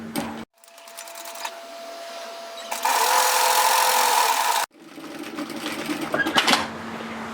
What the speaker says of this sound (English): So what we're going to do is sew the shoulder seam together as 1 centimetre 3/8 of an inch.